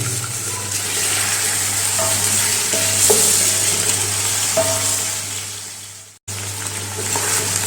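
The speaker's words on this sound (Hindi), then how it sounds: "अभी हम इसमें शामिल करेंगे 1 kg चिकन, और अच्छी तरह फ्राई कर लेंगे।" One kilogram of chicken fries in a pot with ginger-garlic paste for chicken pulao, giving a loud, continuous close sizzle with scraping stir strokes throughout and a brief drop near the end.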